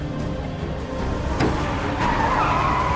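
A car brakes hard at an intersection, its tires skidding and squealing in a long screech over the rumble of the engine, loud and close.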